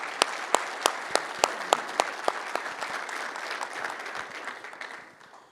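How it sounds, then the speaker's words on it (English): Applause from an audience at an annual membership meeting, starting with several sharp, distinct claps and then settling into steady clapping that gradually fades out. It is moderately distant and heard alone, with no one speaking. "give them a round of applause"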